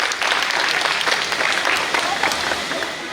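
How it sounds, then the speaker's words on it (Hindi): Loud, dense applause from guests at an engagement ceremony, a continuous burst of clapping lasting about three seconds. "एक बार जोरदार तालियां दोनों सालियों के लिए।"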